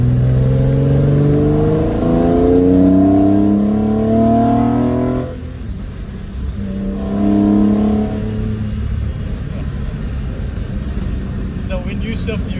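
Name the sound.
BMW E30 with M3 engine accelerating through DCT gear shifts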